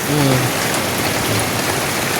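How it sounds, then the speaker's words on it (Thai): Steady rain falls in a dense, even hiss throughout, with a brief low tonal sound near the start. "ฝนตกเนาะ"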